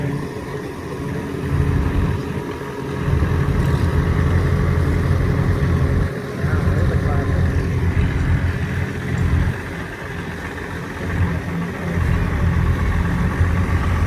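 A 1959 International 660 diesel tractor idles at a tractor pull, a steady loud low rumble that holds through the whole stretch with slight dips and no speech.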